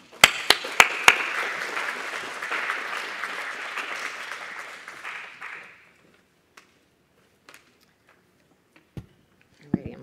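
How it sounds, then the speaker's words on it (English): An audience applauds at an evening math education event, clapping loudly and densely for several seconds before it fades to silence, leaving a few isolated knocks and shuffles. "Let's give a warm round of applause for Noelani."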